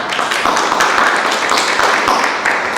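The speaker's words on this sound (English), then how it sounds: "how about another round of applause for Bob?" Audience applauding a speaker named Bob at a business talk on change in a 119-year-old company, with dense steady clapping filling the room from start to finish, close and loud.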